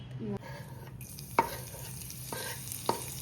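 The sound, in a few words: mustard seeds sizzling as they are added to hot oil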